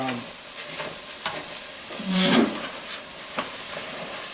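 Hot pepper jelly is stirred as it cooks down in a pot, giving soft scraping strokes and a gentle bubbling sizzle, with one louder scrape in the middle, close and without talk.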